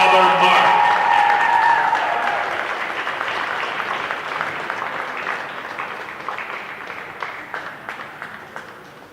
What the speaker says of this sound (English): Let's have one last round of applause for these 4 seniors